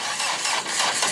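A speedboat engine taken from a 1440 cc Toyota car, dismantled and modified for the boat, turns over and starts with a dense, steady mechanical roar that stays loud throughout.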